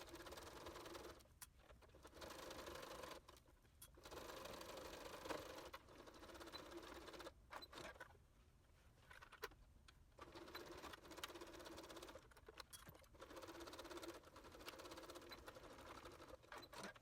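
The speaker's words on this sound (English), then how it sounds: "So let's go ahead and sew that." A sewing machine runs in steady bursts while stitching a fabric hot pad, its even mechanical whir stopping briefly several times between runs, quiet and close with no talk.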